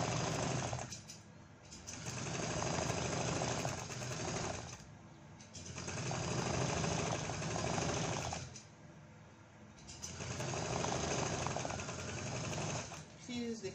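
A sewing machine stitches around a keyhole neckline in fabric, running in long loud whirring bursts separated by short pauses, close by and alone on a shaking table.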